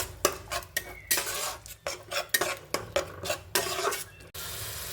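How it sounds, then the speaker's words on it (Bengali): A spoon scraping and clinking against a pan while masala with a little water is stirred for a cauliflower fish curry, a quick irregular series of close metallic strokes. "এবার এর মধ্যে দিয়ে দিলাম আমি অল্প পরিমাণে জল দিয়ে এভাবে আমি নাড়াচাড়া করতে থাকবো।"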